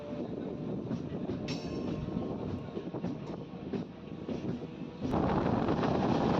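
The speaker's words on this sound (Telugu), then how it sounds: "భజన్ల స్టేషన్ నుంచి మన ట్రైన్ బయలుదేరిపోయింది" A MEMU train rolls steadily along the track between Repalle and Guntur with a continuous rumbling roar and clattering wheels, growing louder toward the end.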